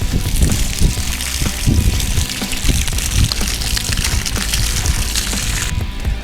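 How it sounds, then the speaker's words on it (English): Water gushing and splashing steadily while a deer's body cavity is washed out, close and continuous for several seconds, with no talk. "So before you start skinning and quartering, wash it out really well."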